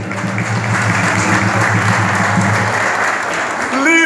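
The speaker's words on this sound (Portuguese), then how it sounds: "uma salva de palmas, meu filho." At a feijoada party, the crowd bursts into loud, continuous applause, thick and sustained, with a voice rising briefly near the end.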